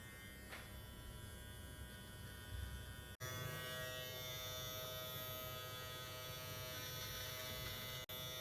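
An electric trimmer shaves a man's beard at home, giving a steady close-up buzz that runs continuously, briefly cutting out twice before resuming.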